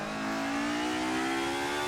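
A Mercedes 190 DTM race car's engine drones steadily on a downshift, a loud, close, continuous whine with its pitch sliding gently, no talk.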